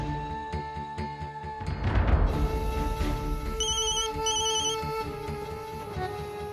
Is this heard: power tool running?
no